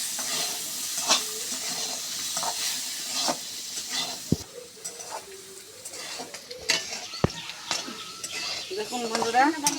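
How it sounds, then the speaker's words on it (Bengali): Potatoes and taro roots frying in oil in a pan for a Bengali curry, a steady close sizzle with stirring scrapes and occasional clinks of a utensil against the pan, and some faint talk under it. "আলুগুলো আমার সুন্দর করে ভাজে নিচ্ছি"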